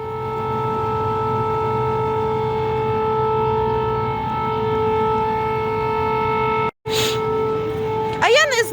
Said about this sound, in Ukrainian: Чи це відбій повітряної тривоги, чи це нова повітряна тривога.